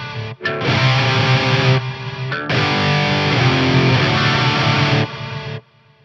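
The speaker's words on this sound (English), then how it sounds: "Let's hear tape, that's your Echoplex style delay." Guitar run through a Strymon Volante echo pedal set to its tape, Echoplex-style delay mode, a gritty distorted phrase with repeating echoes, loud and alone, pausing briefly midway before trailing off.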